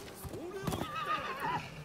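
A horse in the Rise of the Ronin video game whinnies with a rising, wavering neigh over a few hoof clops, briefly and close, with game sounds around it.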